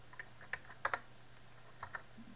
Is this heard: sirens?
no